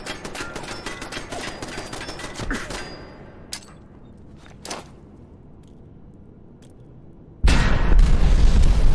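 A Fallout 4 explosion lands as a sudden loud roaring blast near the end, after a stretch of sharp pops and rattling gunfire that fades to near silence with a few isolated thumps.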